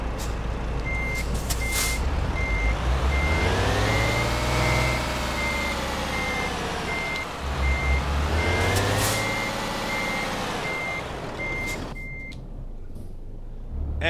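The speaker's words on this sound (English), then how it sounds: "I'll just wait until this truck goes by." Trucks in Euro Truck Simulator 2 roll past in two loud, close passes, with engine drone rising and falling and a steady reversing beep repeating throughout.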